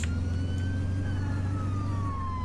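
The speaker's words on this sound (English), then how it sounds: "we get to use the siren both ways this time" An emergency vehicle siren on an EMS ambulance in the video game Flashing Lights wails as a slow, thin tone gliding upward then downward, fairly faint over a loud, steady low engine drone.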